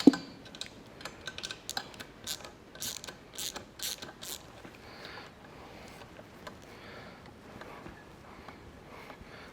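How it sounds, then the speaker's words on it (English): A ratchet wrench clicks in short, uneven bursts while trying to tighten a stripped bolt during assembly of a Vevor 11,000 lb shop air bag jack. The clicks are close and fairly quiet, with no talk. "That screw strip, that bolt, will not tighten up."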